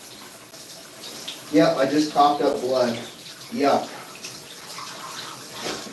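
Shower water runs as a steady hiss beneath a nearby voice that speaks briefly and then coughs.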